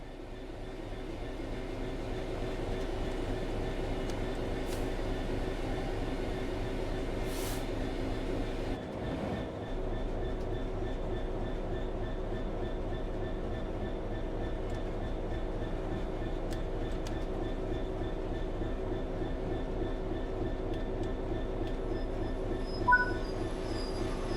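A train in Train Sim World 3 rumbles along steadily with a constant low roar and faint rail clatter, occasional squeaks and a brief dip midway, no voices.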